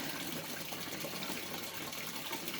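Running water splashes steadily and softly for a couple of seconds as a small pH test tube is rinsed out, with no voices.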